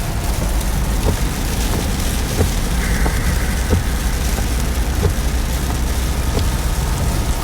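Heavy rain pours down steadily outdoors near fields, a dense, loud hiss with scattered splashing patters that holds constant for the whole stretch, no talk.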